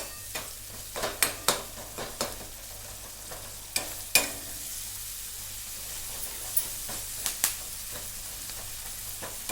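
Curry leaves frying in hot oil give a steady soft sizzle, with sharp crackling pops and stirring scrapes scattered through, close and fairly quiet.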